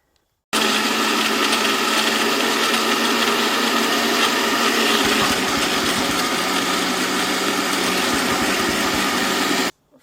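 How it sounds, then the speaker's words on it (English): A motorized blender whirs loudly and steadily for about nine seconds blending sauce with a little water, starting and stopping abruptly, its pitch dropping slightly midway as the contents churn. "add a little bit of water just to help blend all that in a blender"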